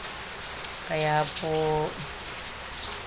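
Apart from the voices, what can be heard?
heavy rain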